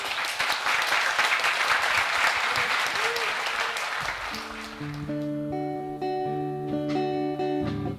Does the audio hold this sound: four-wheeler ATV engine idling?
no